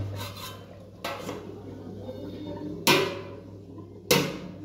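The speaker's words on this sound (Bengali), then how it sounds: "ও ধীরে ধীরে ফুটুক, তো একটু ঢাকা দিলাম" A lid is set onto a cooking pot simmering over a low gas flame, producing three separate metallic clanks and rattles at uneven intervals over a faint background hum.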